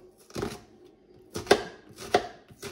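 Knife chopping onions finely by hand on a cutting board while preparing homemade boudin noir: four sharp, close chops spaced irregularly, with quiet pauses between them.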